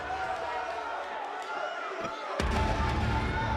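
A wrestling arena crowd roars and cheers at a live event, a steady wall of noise that surges sharply louder near the end as a wave of excitement sweeps the audience.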